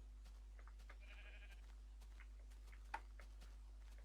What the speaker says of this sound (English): Oh, grief, another sheep.